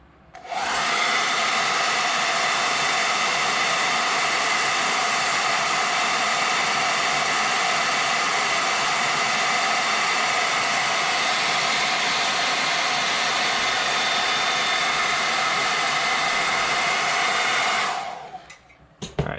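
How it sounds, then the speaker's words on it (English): A heat gun blowing hot air to heat-set paint on a popper fishing lure, a loud, steady whooshing roar running continuously before cutting off at the end. "This time you're going to hear a little bit of the heat set."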